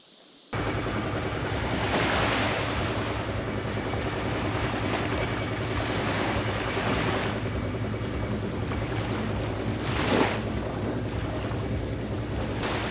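Waves wash steadily onto a tropical beach at Ang Thong National Park in Thailand, a continuous broadband roar with slow swells and gusty wind buffeting the microphone.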